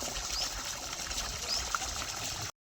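Water pours and trickles steadily into a container at home to fill it for drinking and household use, a continuous close splashing stream running for a couple of seconds before cutting off.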